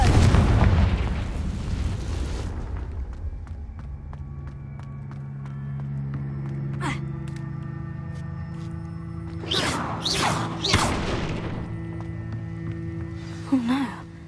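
A Confringo spell in Hogwarts Legacy, with a loud burst at the start fading into a low rumbling decay, followed by a few quieter crackling pops and magical chimes over a steady hum.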